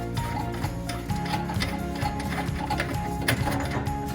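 Screw being loosened under a bathroom sink to free a pop-up stopper, giving steady close mechanical ticking and ratcheting clicks that continue throughout with no talk.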